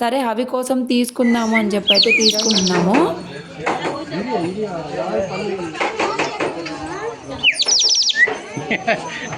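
A small plastic toy bird whistle blown to mimic a bird call produces two short bursts of chirping, warbling tweets. A person talks throughout, beneath and between the whistles.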